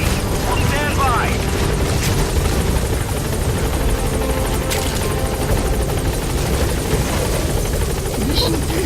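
Helicopter Pequod from Metal Gear Solid V arriving at a landing zone, its steady rotor drone loud and continuous throughout, with game voices and ambient sound layered over it.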